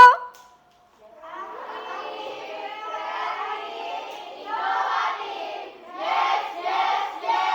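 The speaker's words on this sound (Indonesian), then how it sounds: "Oke, yel-yel dulu dong." A class of schoolchildren chant a class cheer together in unison, rhythmic and rising in energy, ending in a few strong shouted beats.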